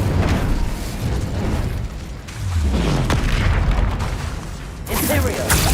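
In Hogwarts Legacy on PS5, the Incendio fire spell is cast with loud, roaring whooshes and booming bursts, a dense burst of game combat effects that swells again near the end.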